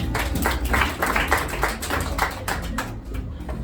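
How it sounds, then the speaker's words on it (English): A church congregation claps hands for Jesus during a sermon, a dense, steady patter of many hands spread across the room, loud and continuous throughout with a murmur of voices underneath. "Clap hands for Jesus"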